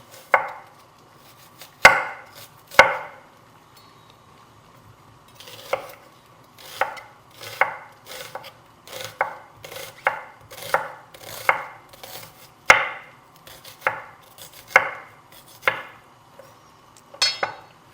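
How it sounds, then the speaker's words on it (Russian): A knife cutting an onion into quarters on a cutting board in irregular strokes, a few sharp loud chops then a quicker run of softer cuts, close by. "просто на вот такие вот лук на 4 части режу"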